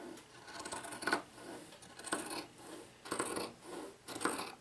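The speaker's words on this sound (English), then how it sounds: "I'm probably going to cut 1/4 of an inch out" Scissors cutting fabric for a Singer Featherweight sewing machine cover, with about five separate snipping bursts spaced roughly a second apart, close and fairly quiet.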